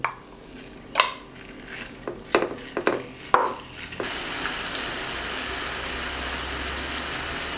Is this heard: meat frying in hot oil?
yes